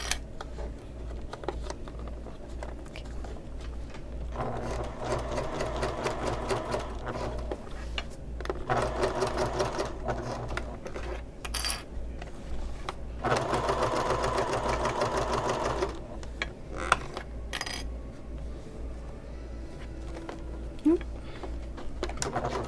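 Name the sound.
sewing machine back stitching a bag seam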